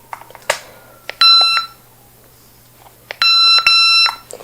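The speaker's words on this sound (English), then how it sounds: "So if I hold it in, it double beeps." A RealCare Gen 6 baby simulator gives two separate bursts of high electronic beeping, each a quick double beep, over quiet background handling noises.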